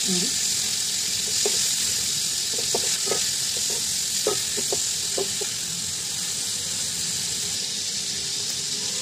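Shrimps fry in hot oil in a pan, a steady close sizzle with scattered clinks and scrapes from a utensil turning them, and a short voice at the start.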